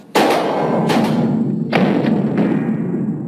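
AK-47 Kalashnikov rifle fired at a shooting range, several loud separate single shots, each sharp crack trailing off in a rolling echo before the next.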